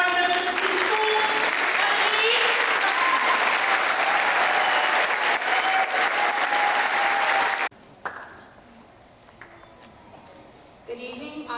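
A graduation audience at Triple C School applauds the Class of 2011 valedictorian, a loud, dense roar of clapping from a large crowd that cuts off abruptly, leaving quiet room sound and a few stray claps.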